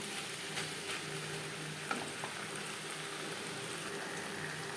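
Snake gourd is stirred in a pan over a high-to-medium gas flame, producing a soft, steady sizzle with a few light clicks of the spatula, fairly quiet overall.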